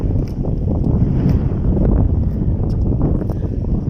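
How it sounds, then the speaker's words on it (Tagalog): Loud, steady wind buffeting the microphone with a dense rumbling roar while walking on an oval track, broken by occasional faint clicks and rustles. "lakas ng hangin guys"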